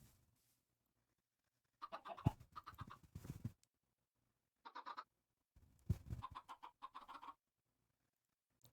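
Chickens in Minecraft give two short runs of clucks and squawks, faint and somewhat distant, each separated by silence.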